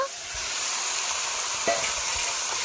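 Chicken meat sizzles steadily in hot oil in a pan, a continuous close hiss broken by a brief clack of utensil against the pan midway.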